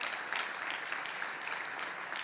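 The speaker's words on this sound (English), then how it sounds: "Yeah, big round of applause." A crowd applauds founders who stand at an event, a steady wash of many hands clapping, moderately loud and even for the whole stretch with no talking over it.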